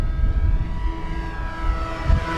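FMS de Havilland Beaver 2000mm V2 RC float plane making a fast low pass into light wind, its electric motor and propeller droning loudly and steadily with a rising whine, close and continuous throughout.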